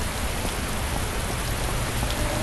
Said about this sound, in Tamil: சாப் வெளியே மழை பெய்யுது